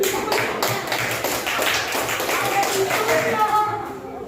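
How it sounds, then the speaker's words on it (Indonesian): Scattered audience applause in an Indonesian classroom or supervision session, a dense patter of claps lasting a few seconds with some background voices mixed in. "tepuk tangan untuk mereka"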